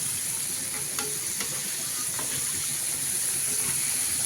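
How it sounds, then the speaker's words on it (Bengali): Chicken fry sizzles loudly and steadily in a pan, a dense continuous hiss with a few faint clicks of utensils underneath. "এদিকে চিকেন ফ্রাই এই যে ভাজা হচ্ছে"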